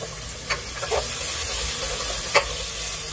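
Fenugreek seeds and onions frying in a pan, a close, steady hiss of hot oil with a few soft stirring scrapes and light pops.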